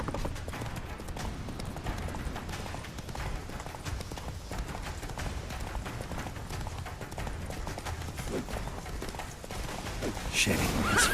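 Roach the horse gallops in The Witcher 3 with rapid, continuous hoofbeats, loud and close, under a dense background of game noise and music, with a brief shouted exclamation near the end.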